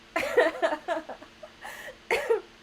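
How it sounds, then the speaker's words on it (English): Several short, harsh coughs in a close burst, then a pause and two more coughs, a person coughing nearby. "I feel like I'm coughing more than usual"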